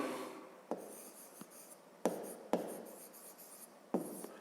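A pen writes on paper during a fifth-grade maths exercise, quiet close scratching strokes broken by several sharp taps and lifts, a short burst of scribbling, then a pause, then more strokes.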